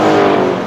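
A race car roars past close by in a loud, brief blast of engine noise at a motor racing event.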